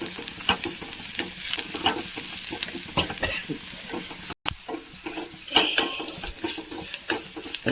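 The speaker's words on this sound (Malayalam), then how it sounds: "നമുക്കിതിലേക്ക് 1 സ്പൂൺ ചതച്ച മുളക് ഇട്ട് കൊടുക്കാം. നന്നായി ഇളക്കി മൂപ്പിച്ചെടുക്കാം." Crushed chili and onions stir-fried in a pan, with a steady sizzle of hot oil under repeated scrapes and clinks of a spoon against the pan, close and fairly quiet with a momentary dropout midway.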